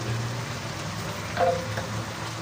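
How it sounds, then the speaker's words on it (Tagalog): Garlic, onion, tomato and shrimp paste sauté for chicken Bicol Express, a continuous sizzle with a soft stirring scrape midway and no talk. "Nag-isa po tayo ng bawang, sibuyas, kamatis, at alamang"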